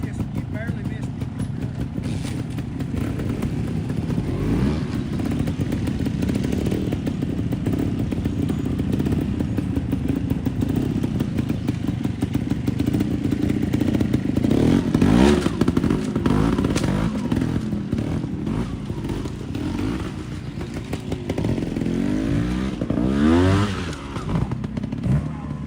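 A trials motorcycle revs and putters unevenly at close range through a national-round section in Nebraska, with bursts of throttle, clunks and thuds, and voices talking over it.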